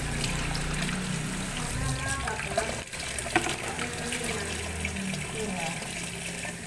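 Raw chicken is rinsed under running tap water, which flows steadily and splashes throughout while a person talks over it.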